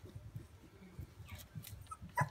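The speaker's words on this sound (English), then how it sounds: "Starting to bite and bark and growl and bite a little bit." Three-week-old F1 Goldendoodle puppies give soft yips, whimpers and small barks in a quiet room, scattered short calls at low level with one sharper yelp near the end.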